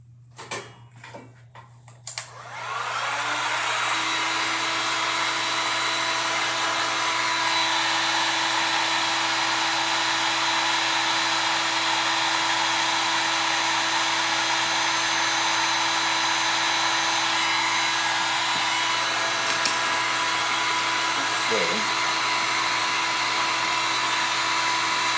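A hair dryer starts after a brief shuffle and then blows steadily and loud for the rest of the time, drying a freshly decoupaged Easter egg.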